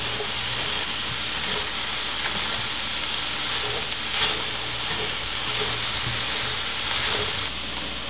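Cabbage and ground turkey fry in a pan, a loud continuous sizzle and hiss with occasional small crackles, steady and close throughout with no talk.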